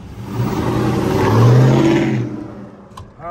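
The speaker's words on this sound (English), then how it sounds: "it's a Corsa stainless muffler with a Corsa tip run up out the factory side" A lowered 2000 GMC Sierra with a Corsa stainless muffler and tip drives by, its exhaust swelling to a loud, close, throaty drone that peaks mid-pass, then fades away into quiet with a faint click at the end.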